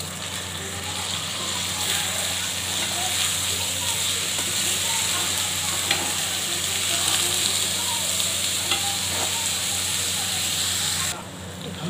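Rice added to a pan with ghee for pulao sets off a continuous dense sizzle with faint crackles and occasional scraping, close and steady throughout.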